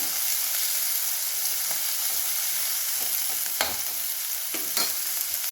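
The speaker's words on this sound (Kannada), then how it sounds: "ಹೆಚ್ಚಿದ ಈರುಳ್ಳಿ, ಸರಿಯಾಗಿ ಫ್ರೈ ಮಾಡಬೇಕು." Chopped onions fry in a pan with a strong, continuous sizzle and crackle, while a utensil stirs and scrapes close by at irregular intervals.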